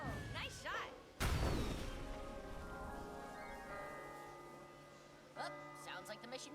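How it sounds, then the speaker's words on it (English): A bell rings out as the mission briefing signal in an animated episode, one sharp loud strike at the start followed by a long ringing decay, with voices talking around it. "sounds like the mission briefing bell"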